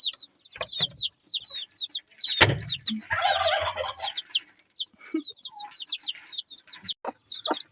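Speckled hens cluck and chatter in quick, repeated bursts, with a close flurry of scratching or wing noise in the middle; no talking.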